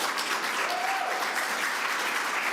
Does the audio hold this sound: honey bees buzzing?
no